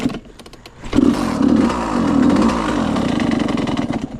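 A Suzuki RM85 two-stroke dirt bike engine sputters to life and runs rough, a close, loud buzzing rasp that rises and wavers unevenly with no steady idle.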